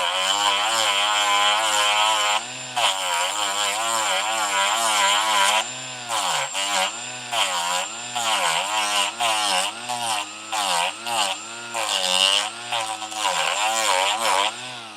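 A Milwaukee cordless 3-inch cut-off tool cuts through a part for a Canik MC9 pistol, its high whine loud and close, steady at first, then rising and dipping in pitch with short breaks as the cut goes back and forth.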